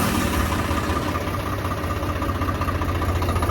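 A tractor engine idles steadily and loudly close by, a continuous low rumbling chug with even vibration and no talking.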